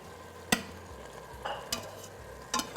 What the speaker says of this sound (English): we're going to go ahead and add our brown beef back in